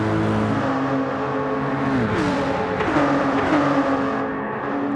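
A race car engine in Gran Turismo 7 runs flat out at about 178 mph, a continuous high-revving drone whose pitch dips and climbs through gear changes. No one speaks over it.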